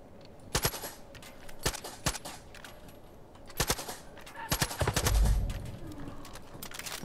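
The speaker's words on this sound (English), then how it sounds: "I love the silencer weapons." Suppressed weapon fire in the video game Far Cry 5, several muffled shots in short bursts spaced across the clip, fairly quiet with a heavier thump near the end and no talk.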